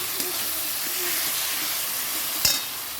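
Marinated chicken added to a hot pan sends up a loud, steady hiss of sizzling, with a sharp clunk of a utensil near the end.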